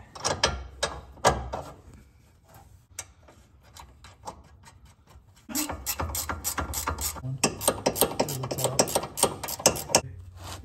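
A torque wrench ratchets in short bursts of rapid, sharp clicks while tightening a sway bar end link on a car. A denser run of clicking follows in the second half, close and clear.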